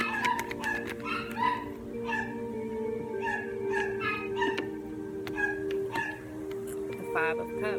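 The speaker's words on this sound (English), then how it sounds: "Please excuse the dogs in the background." Dogs bark, yip and whimper over a steady hum, with a person talking underneath the barking.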